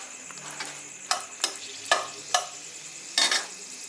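Dry red chilies are dropped into hot oil left from frying lentil fritters, giving several sharp crackling bursts and sizzles in a quiet kitchen, with no talk.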